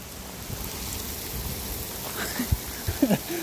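Water pouring and splashing down at the Fewa power house, a continuous hiss of falling water with a few louder close splashes toward the end.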